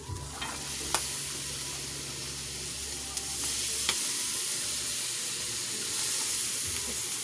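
Papaya stirred into shrimp paste sautéed in a pan without oil, a steady close sizzle and hiss with a few scraping clicks of the spoon.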